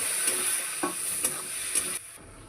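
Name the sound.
raw plantain curry sizzling in pan after adding besan water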